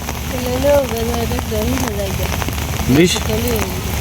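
Heavy monsoon rain pours steadily outside a village house, a constant close hiss and patter, while a couple of people chat over it.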